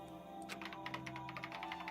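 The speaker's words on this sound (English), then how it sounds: "The only sound was the flat, precise clicking of keys as Kyoko typed." Keyboard typing in Danganronpa: a quick run of flat, precise key clicks, evenly paced and fairly close, over a faint steady hum.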